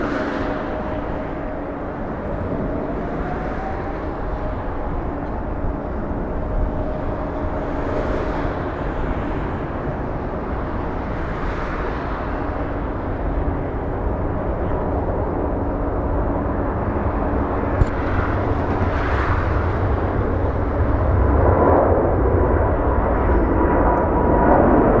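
A Japan Airlines plane moves at LAX, Los Angeles International Airport, its broad, steady jet roar holding at a constant level and swelling slightly toward the end, with no talk over it.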